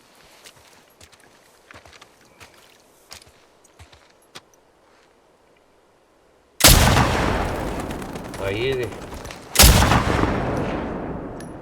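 After quiet shuffling and a brief voice, two loud video game gunshots in The Last of Us Part II ring out a few seconds apart, each trailing off in a long echo.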